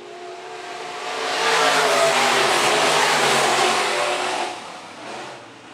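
Sport mod race cars roar past on the track at Phillips County Raceway, a loud engine rush swelling to a peak and fading away, with no commentary over it.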